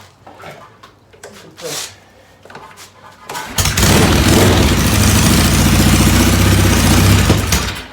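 A 1983 Yamaha XJ900 Seca motorcycle started for the first time in six years, with choke on: a few seconds of quiet handling, then the engine catches and settles into a loud, close, steady idle.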